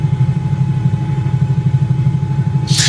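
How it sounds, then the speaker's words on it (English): Aircraft engines idle after touchdown in Microsoft Flight Simulator, a loud, steady, pulsing low drone with a faint tone above it and a short burst of hiss at the end. "right, engines to idle."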